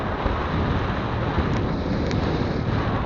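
Cold wind buffets the microphone during a ride on a Honda Beat FI scooter, a steady loud roaring rush with no voices.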